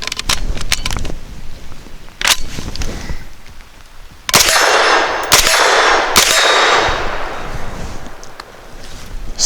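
A Zenith Z5 RS MP5 clone fires Federal 115 grain aluminum-case ammo in sharp, close shots, a few scattered and then a tighter burst, with metallic clanks and ringing between them.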